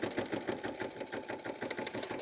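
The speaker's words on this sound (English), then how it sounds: "we're going to start sewing this binding on" A sewing machine stitching fabric binding onto a bag, a close, continuous rapid mechanical chatter with an even rhythm and no talking.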